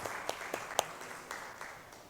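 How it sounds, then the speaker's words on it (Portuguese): A congregation applauds during a church worship service, and the sound reaches the listener as a steady, fairly faint wash of many clapping hands with a few louder single claps standing out along the way. "Vamos aplaudir o Senhor mais uma vez?"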